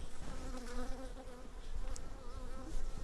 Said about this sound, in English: the bees are getting a little antsy this morning